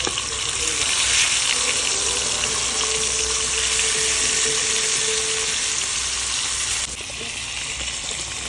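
Fish sizzles steadily in hot oil in a pan while being flipped for fish mutta, a loud continuous crackle that eases slightly near the end.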